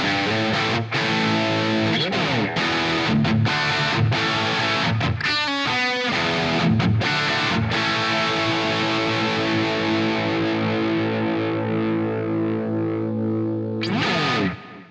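Distorted electric guitar played through an Amped amp plugin, with crunchy chords and riffs in a steady rhythmic pattern, loud and continuous, heavy gain with chorus-like effects, ending on a sustained ringing chord.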